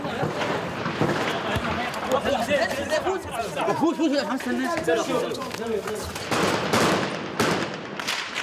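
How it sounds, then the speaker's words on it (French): Sniper gunfire in an Aleppo street during a combat retreat, sharp cracks and bursts ringing out among shouting voices and chatter, with a loud burst near the end. "Il tire sur nous, on se replie."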